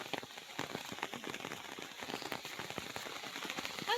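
Heavy rain falls in a forest near an old family house, a dense, steady patter of drops on leaves and surfaces, continuous and fairly close without any talking.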